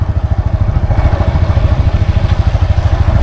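A motorcycle carrying riders out for a ride near a large village rumbles steadily, a loud, close mid-pitched engine chug that runs continuously with a rapid pulsing throb.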